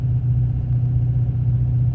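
A Dodge Ram truck drives along early in the morning, giving a steady, heavy low rumble from inside the cab with no breaks.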